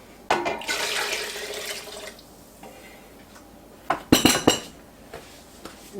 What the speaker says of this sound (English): I'm going to add 5 cups of water.